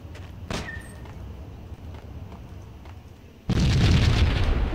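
A sudden loud explosion in the video game Max Payne bursts in after a stretch of low background rumble, its roar sustaining broadly to the end.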